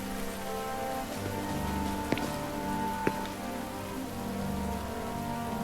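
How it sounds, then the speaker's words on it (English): Steady video game rain in Final Fantasy XV falling on a hard surface, with a constant patter and a couple of brief sharper drips standing out. "Always raining."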